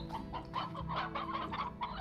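Chickens clucking in the Slime Rancher video game, a busy run of short, repeated clucks at moderate loudness over a low background hum, with no talking.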